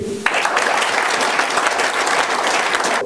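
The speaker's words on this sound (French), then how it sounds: "Donc nous avons Madame Mireille Mutombo, je vous prie de l'applaudir." A crowd at a political meeting in Congo bursts into loud, dense applause that starts abruptly and holds steady for about three seconds.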